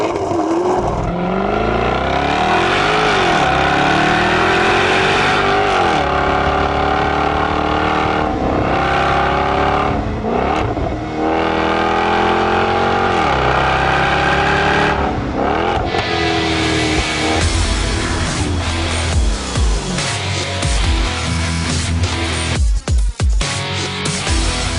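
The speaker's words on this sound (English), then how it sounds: "Under the XKRS's massive hood, you'll find a 5-litre supercharged V8 boasting 542 brake horsepower and 501 pound-per-foot of torque." A 2014 Jaguar XKR-S with a 5-litre supercharged V8 revs hard and loud, its engine note repeatedly climbing and falling in pitch through a continuous roar lasting about twenty-five seconds.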